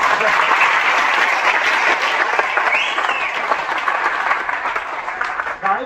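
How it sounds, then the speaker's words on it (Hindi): Crowd applause from a seminar audience aboard a cruise ship, loud sustained clapping that stays dense for several seconds before thinning slightly at the end. "इनके लिए एक ताली तो बजाता हूं"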